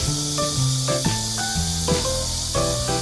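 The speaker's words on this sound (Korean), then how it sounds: "매미들이 엄청 시끄럽게 울어대고 있어요." A steady, loud, high-pitched insect drone fills the whole clip, a continuous buzz like cicadas, with tonal music layered underneath.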